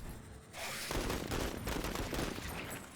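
Rapid gunfire rattles in a continuous fusillade during a turn-based battle in the video game Menace, with dense overlapping shots running for about two and a half seconds.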